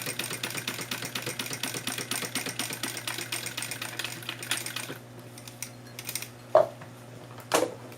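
A sewing machine stitching synthetic material for a tote bag: a steady, fast mechanical rattle for about five seconds that stops abruptly, followed by a few scattered clicks and knocks.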